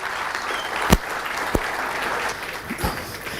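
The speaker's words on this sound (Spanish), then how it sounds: "Aplauso para el profesor Alberto Spasandín." Audience at a lecture on team sports teaching applauds the professor, a soft, even patter of many hands with a few sharper claps standing out, fairly distant and moderate in volume.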